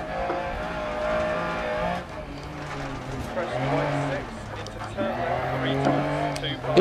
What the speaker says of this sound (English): Oh, the sound of that engine.